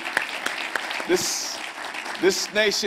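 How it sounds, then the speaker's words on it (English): An audience claps hands at a political event, with bursts of applause breaking in between the loud amplified voice of a speaker addressing the crowd. "Hey, clap hands. I'm clapping hands for you"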